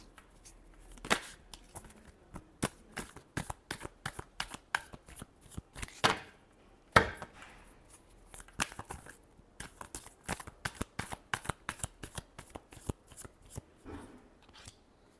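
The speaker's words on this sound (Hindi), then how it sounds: "last shuffle" Tarot cards are shuffled in a rapid run of crisp riffling slaps and soft flicks. The sound is close and fairly quiet, with brief pauses between bursts.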